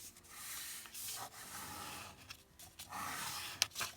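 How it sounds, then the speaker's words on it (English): Paper is folded and creased for a craft embellishment, giving soft rubbing and scraping strokes in several bursts, close and quiet. "so do the fold up about between 1/4 and 1/2 inch"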